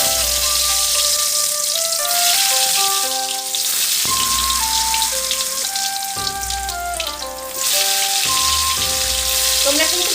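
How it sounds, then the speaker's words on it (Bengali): Potato pieces coated in salt, turmeric and Kashmiri chili powder fry in hot oil, a steady hissing crackle under prominent melodic background music. "এই যে আলুটা আগে থেকে নুন হলুদ আর কাশ্মীরি মির্চ পাউডার দিয়ে মাখিয়ে রেখেছিলাম সেটা এবার ভাজতে দেবো"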